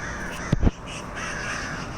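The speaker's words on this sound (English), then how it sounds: "Here comes some crows. Here's some crows getting in the mix." Crows cawing outdoors near a back porch, two quick harsh caws close together, heard alone over a faint steady background.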